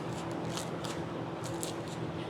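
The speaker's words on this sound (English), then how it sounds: "We'll take these scissors and we'll just cut" Scissors snipping through a foam pool noodle, a few soft close cuts spread unevenly over a couple of seconds against a steady background hiss.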